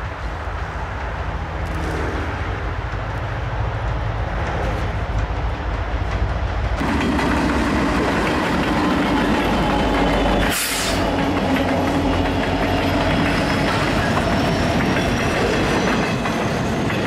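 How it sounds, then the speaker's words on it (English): A long Pan Am Southern 23K intermodal freight train carrying double-stack containers rolls past nearby with a loud continuous rumble and rhythmic clickety-clack of wheels that grows fuller midway, with no voices. "23K's headlight appeared with a long train of intermodal containers bound for the Windy City"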